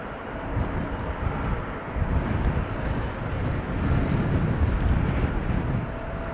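Windy broadband rumble of an airplane moving onto the runway threshold at Amsterdam Schiphol airport, a steady low roar mixed with gusting wind on the microphone, continuous and moderately loud throughout.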